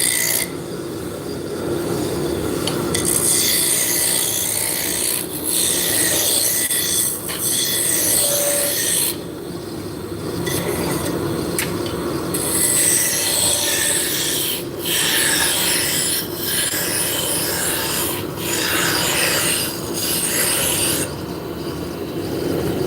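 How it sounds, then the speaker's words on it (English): Wood being sanded by hand in a woodworking shop, a continuous raspy rubbing with rhythmic back-and-forth strokes, close and loud throughout. "She is sanding."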